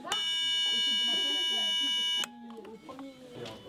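Steady electronic tone from a low-frequency signal generator set to the note D3, sustained with many even harmonics and cutting off abruptly partway through, followed by faint room noise and brief speech.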